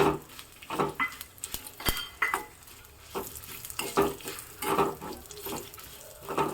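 Pieces of fresh coconut sizzle softly in a pan while a utensil scrapes and stirs in irregular bursts, close by, with no talking.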